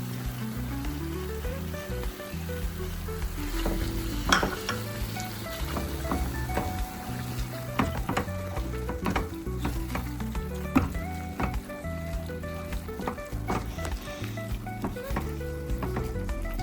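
Tomato frying and being stirred in a pan for egg curry: a steady sizzle with scattered scraping clicks from the spoon, running under background music.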